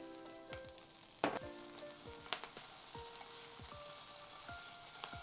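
Bacon frying in a pan, a quiet, steady sizzle with occasional small pops and faint clicks of cookware, no voices.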